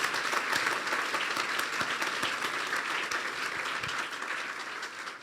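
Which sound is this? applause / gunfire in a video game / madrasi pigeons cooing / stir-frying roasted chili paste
applause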